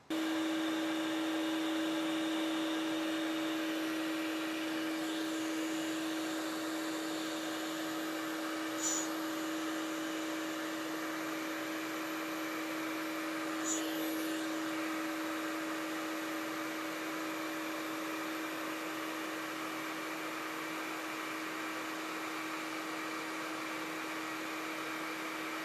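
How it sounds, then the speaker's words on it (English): Two vacuum cleaners rigged together as a smoke extractor run as a steady, continuous motor whine with an even hum and airflow hiss, holding constant throughout with a couple of faint clicks. "The suction was significantly better than what it was with just one vacuum."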